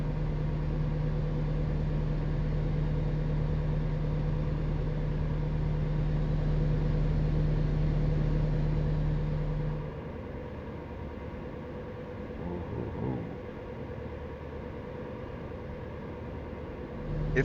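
Truck engine idling in American Truck Simulator, a steady low mechanical drone with a strong low hum that drops to a quieter idle partway through, with no talk over it.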